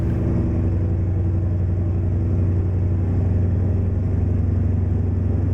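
A vintage Mack ENDD864 V8 truck engine without a turbocharger runs steadily in American Truck Simulator, a loud, close, deep rumbling drone holding an even pitch throughout with no talk.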